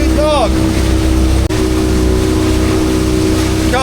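A beach fishing boat motors against the tide at dusk in blustery, half-gale conditions, its engine giving a steady close drone under heavy wind buffeting and water noise, with a brief dropout partway through.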